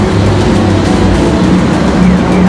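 A bus travelling from Mount Fuji to Tokyo, heard from inside as a loud, constant engine and road rumble with a low steady hum and no talk.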